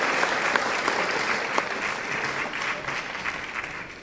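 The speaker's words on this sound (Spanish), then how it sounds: "Un aplauso, que os lo habéis ganado." A congress audience applauds in a dense, steady round of clapping that carries on throughout and eases slightly toward the end.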